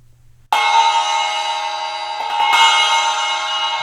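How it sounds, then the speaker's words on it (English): A 12-inch Flanger Bell cymbal is struck, giving a bright, sharp attack that rings on with a dense metallic shimmer. A second hit lands partway through and renews the sustained ring. "Really aggressive bell sound."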